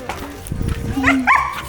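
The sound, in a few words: dog barking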